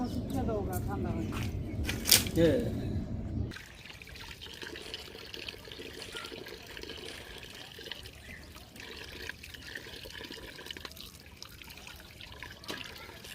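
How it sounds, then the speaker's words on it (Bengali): Water runs and splashes loudly for the first few seconds as chicken meat is washed, then drops to a soft, steady trickle and faint handling noise for the rest. "মুরগির মাংসগুলো ধুয়ে নিচ্ছি"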